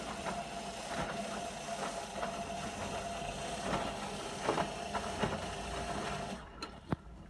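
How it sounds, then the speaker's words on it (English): Beko WM5100W washing machine in its wash phase on a 40-degree cottons cycle, a steady mechanical hum and whir with a faint irregular knocking noise, heard up close before it eases off near the end. "it's in the wash phase, everything seems to be going okay apart from that noise"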